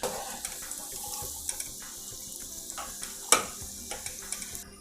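Pakoda batter sizzles and crackles in hot oil on a stove, a steady close frying hiss with occasional stirring clinks and pops, no talking.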